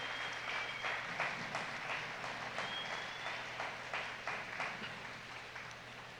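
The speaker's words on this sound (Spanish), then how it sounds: "Dele un fuerte aplauso a nuestro Dios." A church congregation applauds in praise to God, a faint, fairly steady spatter of clapping over a low constant hum, with no voices over it.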